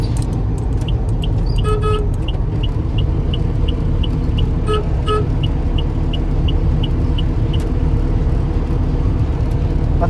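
A car drives along a road on a trip from Pune to Mumbai. Loud steady road and engine rumble fills the cabin throughout, with a regular ticking indicator and a couple of brief horn toots.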